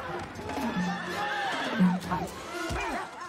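Horses neigh and whinny in an Anchorman scene, several loud calls rising and falling over a busy background of crowd chatter and voices.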